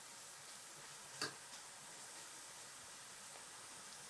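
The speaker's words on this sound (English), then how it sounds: "And I'll let those saute for a little bit." Onions sautéing in a pan, a steady faint sizzle and hiss with a single brief tick near the start, quiet and continuous with no talking.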